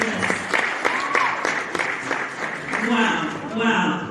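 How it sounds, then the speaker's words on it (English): An audience applauds steadily after a performance, a dense wash of many clapping hands close and loud, with a voice speaking over the final second. "Please a round of applause for this beautiful princess."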